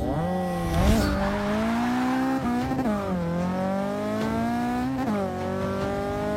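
A Mazda Miata accelerates hard in a race against a Mustang, its engine climbing in pitch through repeated gear shifts, each pull rising and then dropping, loud and close.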